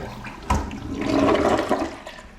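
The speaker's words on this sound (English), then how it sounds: "Give her a flush and you are good to go." A toilet flushes just after being unclogged with an auger, a close, loud rush of swirling water that surges and drains over a couple of seconds.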